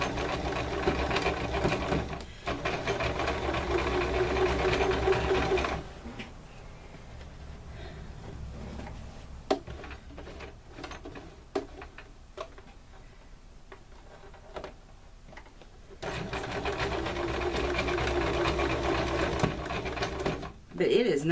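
A home sewing machine runs on a tote bag gusset while struggling to feed the fabric, with a steady loud mechanical whir at the start and end. Between the runs come quieter ticks and clicks, and someone talks throughout.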